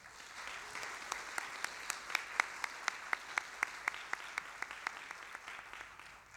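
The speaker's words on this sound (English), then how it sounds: "Please give them a round of applause" Steady applause from a large conference audience honouring the sponsors at the ASEE 2015 annual award ceremony, with a few sharp individual claps standing out in an even rhythm throughout.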